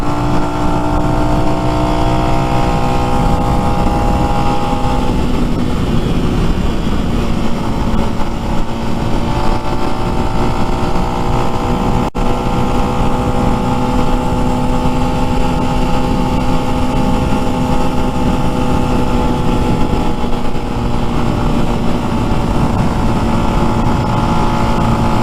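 A Lifan X-Pect motorcycle engine holds a loud, steady high-RPM drone, its pitch shifting slightly up and down with the throttle, running alone and close with no talk.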